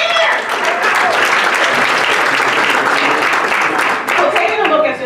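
Sustained audience applause at a community development summit in Detroit, a dense, loud wash of many hands clapping that holds steady for the full stretch with no pause.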